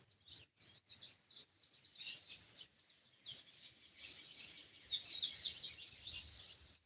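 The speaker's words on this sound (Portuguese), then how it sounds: "onde os pássaros cantam" Birds sing and chirp steadily through a calm Saturday afternoon, with dense overlapping high tweets and calls at moderate loudness and no voices.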